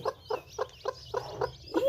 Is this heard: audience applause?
no